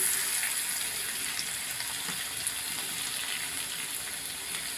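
Chopped garlic frying in oil in a wok, a steady, even sizzle that holds at a constant level throughout with no voices.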